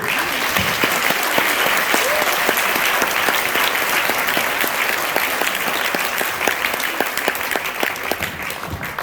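An audience at a music lesson event applauds the musician, sustained loud clapping with distinct individual claps standing out, continuing steadily for about nine seconds and easing slightly toward the end.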